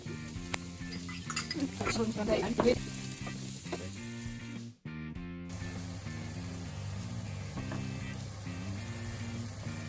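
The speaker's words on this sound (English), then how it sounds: "Now we're going to add the onion and garlic to the pan." Onion and garlic sizzle in olive oil in a pan, a steady frying hiss under soft utensil clinks, with loud music playing over it and a brief dropout near the middle.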